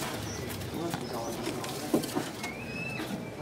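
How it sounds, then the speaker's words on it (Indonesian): Tledekan birds, mangrove or Sumatran, in a bird shop kiosk at Kemayoran market, giving short thin chirps and a few whistled calls amid cooing pigeons and someone talking nearby. "Burung udah banyak yang ngeriwik."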